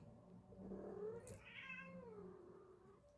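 A cat meows in one drawn-out, rising and falling call, close and fairly quiet, with no talking over it.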